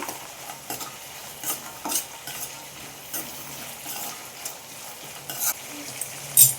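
Soaked green peas tipped into a frying pan and stirred for a ridge gourd and pea gravy, with a steady close sizzle and repeated bright spoon scrapes and clinks against the pan; no talking.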